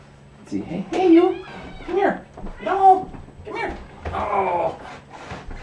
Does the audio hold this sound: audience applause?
no